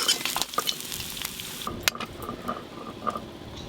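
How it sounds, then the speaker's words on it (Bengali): Close sizzle and crackle of bhola river fish frying in oil that briefly quiets partway through, with a few spatula scrapes and no voices. "এই মাছ একটু লাল লাল করে ভাজতে হয়,"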